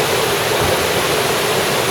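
A jungle waterfall rushes as a steady, dense roar of falling water, loud and close, with no voices.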